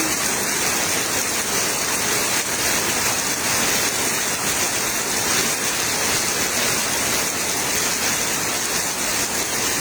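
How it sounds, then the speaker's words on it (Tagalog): Heavy rain pours down steadily during a flood in the Philippines, a dense, loud, continuous roar like rushing water that fills the whole stretch without any break. "Nilalabanan yung boses ko ng ulan"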